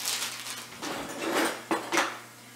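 A pie pan and a frozen pie round are picked up and set down, producing a few close clinks and soft knocks over a low background hum.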